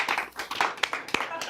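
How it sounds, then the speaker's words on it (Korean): Short burst of hand clapping from a small group during a lighthearted debate show, several distinct claps over a second and a half with faint voices underneath. "이거 박수 나와야 돼"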